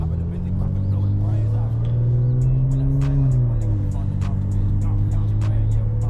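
A car in Sport Plus mode accelerates along a road, its engine note climbing steadily then dropping back as it shifts, close and fairly loud with occasional voices.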